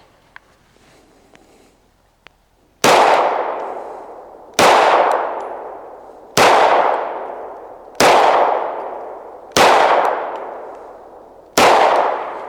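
Six loud pistol shots ring out at a steady pace during a beginner shooting drill, each crack followed by a fading metallic clang from steel targets engaged in turn, with quiet room sound before the first shot.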